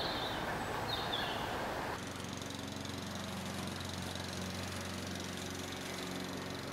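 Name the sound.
motor lawn mower running near a Husqvarna Automower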